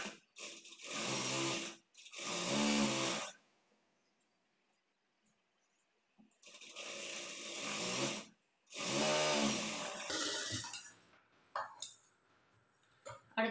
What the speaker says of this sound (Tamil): கீழே வந்து அரை இன்ச் அளவுக்கு தையல் போட்டுக்கலாம்.